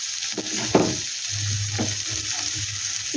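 Chopped filling for pumpkin-leaf rolls frying in a pan with very little oil: a steady close sizzle with occasional stirring scrapes and soft clicks.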